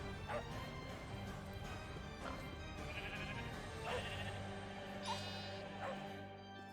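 Minecraft sheep bleat several times over a dense, continuous game soundtrack, the short wavering cries recurring at irregular intervals, moderately loud against the busy background.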